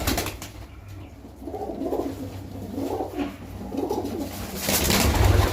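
Pigeons at a pigeon seller's place coo in three or four low, rolling calls, close and clear, with some noise and a brief rise in rustling near the end.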